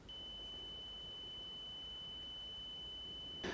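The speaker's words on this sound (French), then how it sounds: "Si ça bip, c'est qu'il y a une continuité." A multimeter continuity test gives a steady, continuous electronic beep at one high pitch for about three and a half seconds, loud and close, then cuts off abruptly.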